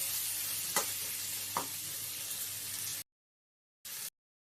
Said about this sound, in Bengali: চিনিটাকে দিয়েও ভালো করে আমি নাড়িয়ে চাড়িয়ে নেব